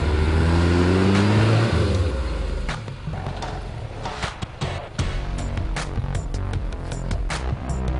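A four-wheel-drive truck's engine revs loudly on a rough Cape York track, a deep roar rising for the first two seconds, then continuing as a steady working drone with short bursts and knocks as the truck digs in.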